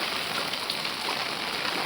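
Heavy monsoon rain pours steadily onto a flooded road in Uttarakhand, a loud, dense, unbroken hiss of rain close by with no voices.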